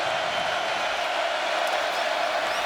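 A stadium crowd at a college football game between TCU and Oklahoma keeps up a steady, loud roar that fills the whole stretch without letup.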